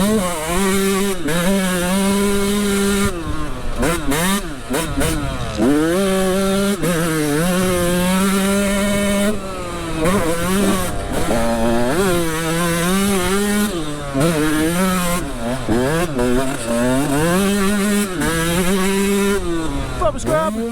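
A 125cc two-stroke dirt bike engine revs hard and repeatedly, its pitch rising and falling through gears in loud, continuous bursts, with brief throttle lifts between pulls.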